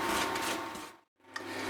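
Potato churro dough is stirred with a wooden spoon, making a steady close scraping and rubbing that stops briefly, then resumes with a sharp knock.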